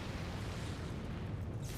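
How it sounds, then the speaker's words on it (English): A deep, rumbling explosion from the video game Final Fantasy XIV rolls on steadily for about two seconds as a dense, low boom with a faint hiss above it. "We didn't even look at the explosion."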